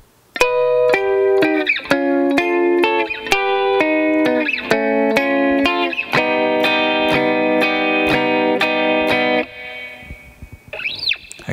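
Electric guitar playing the intro of a song at slow tempo, a run of plucked notes and repeated two-string chords on the upper strings with a processed, effected tone, loud and alone, fading into brief quiet at the end.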